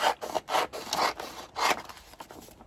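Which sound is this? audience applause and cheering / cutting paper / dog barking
cutting paper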